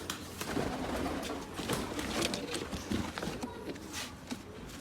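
Pigeons coo in a busy, overlapping flock, soft low calls repeating close by with rustling and shuffling throughout.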